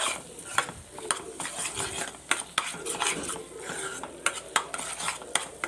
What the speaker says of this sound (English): The final touch, I am going to add half a tablespoon of ghee again. I am going to give a quick mix.